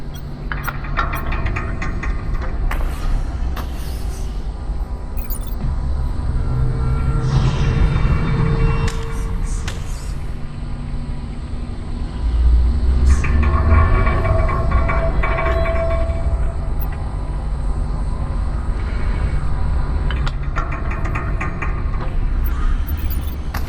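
In the video game Lone Echo II, a tram released by its control starts moving with a continuous heavy rumble and mechanical grinding, rising and swelling midway and holding steady, loud and close throughout.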